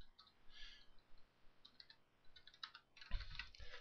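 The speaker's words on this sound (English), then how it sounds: "So I'll type in the band name, type in their website," Typing on a computer keyboard while entering a band name and website into a browser form, with scattered quiet key clicks and a busier, louder run of keystrokes near the end.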